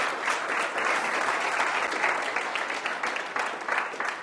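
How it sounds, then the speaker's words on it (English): A seminar audience gives a sustained round of applause, a dense, even clatter of many hands with no break. "Give him a round of applause, everybody."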